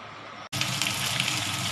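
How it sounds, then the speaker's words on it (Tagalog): After a brief pause, water gushes steadily from a tap into a cooking pot of igado, a loud continuous rushing pour close by with no voices. "Lagyan natin ng tubig hanggang sa lumambot."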